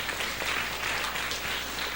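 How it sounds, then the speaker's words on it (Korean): A church congregation claps together in a steady, moderately quiet wash of applause that carries on evenly for the whole stretch. "이 세 분 위해서 우리 큰 박수 한번 해주시기를 바랍니다."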